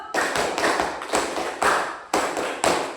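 Schoolchildren clap in unison in a focus clapping game, six crisp, loud group claps in a steady rhythm roughly half a second apart, each sharp and close with a short ringing tail.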